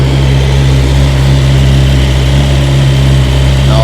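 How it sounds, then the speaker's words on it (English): A 2023 BMW S1000XR motorcycle with an aftermarket slip-on exhaust idles close by, a loud, steady low rumble with strong engine harmonics and no speech. "But nonetheless, it's quite a loud bike."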